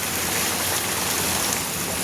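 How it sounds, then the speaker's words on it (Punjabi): Heavy rain pours down in Moga city in a dense, steady hiss with no pauses, loud and close. "ਇੰਨਾ ਤੇਜ਼ ਮੀਂਹ ਪੈ ਗਿਆ"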